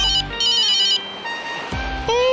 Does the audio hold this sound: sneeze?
no